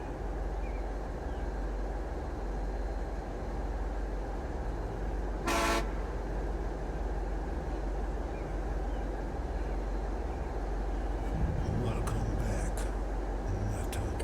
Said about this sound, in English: you don't have to keep, like, honking your horn